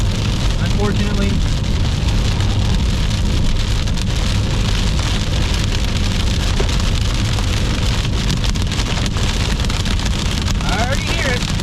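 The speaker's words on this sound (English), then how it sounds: "Get hit by some decent sized hail here in a minute" Pebble-size hail and heavy rain pelting a car driving through an Iowa storm, a dense continuous clatter over a low road rumble, loud and close for the whole stretch.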